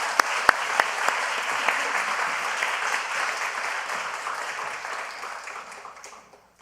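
Church congregation clapping at a new-family school graduation and baptism service, a full, even burst of many hands with a few sharp claps at the start, sustained before fading out at the end.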